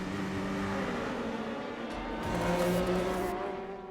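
Endurance race cars accelerate at the green flag in a World Endurance Championship race as the Glickenhaus passes the Corvette, engines roaring and rising in pitch together, loud and close, with a car sweeping past.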